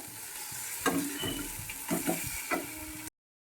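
A spoon scrapes and stirs water spinach raita in a wok with a soft sizzle underneath, a few distinct scraping strokes, then the sound cuts off.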